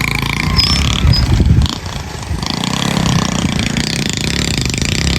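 A motorcycle engine labors nearby while hauling a tied-up load of chopped grass, rough and throbbing with a short surge, then settling into an uneven idle-like chug.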